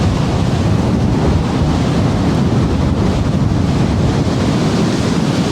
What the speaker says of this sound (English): Let's look at those waves